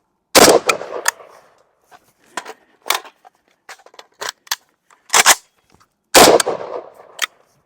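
AK rifle gunfire at a shooting drill, sharp close shots fired singly and in quick pairs and bursts with short pauses between them, each crack ringing briefly, with faint handling clicks in the gaps.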